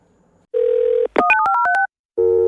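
A telephone dial tone plays as a steady hum, broken by a quick burst of dialing tones and a short ringback, then the steady tone returns near the end.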